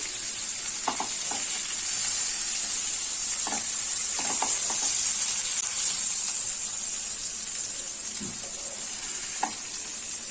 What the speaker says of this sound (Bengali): আমি সুন্দর করে ভিতর পর্যন্ত যেন ভাজা হয় সেরকম করে আমি ভেজে নিয়েছি